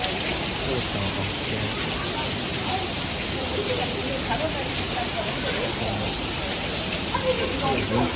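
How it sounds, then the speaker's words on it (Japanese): Heavy rain pours steadily in Singapore, a dense, even hiss of downpour on surfaces, close and continuous throughout, with faint background voices. "その後ちょっとだけ撮影した後にこのようにめちゃめちゃ大雨になりました。"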